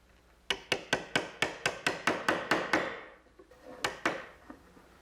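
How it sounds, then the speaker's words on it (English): A sharp chisel is struck repeatedly to clean out a square corner in oak for a medicine cabinet: about ten close, crisp wooden knocks in steady rhythm, then a pause and two more sharp taps. "So I'll clean out that area with a nice sharp chisel."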